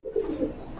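A pair of pigeons in a Bangladeshi pigeon market giving a single short, soft, close coo that trails off, with no talk over it.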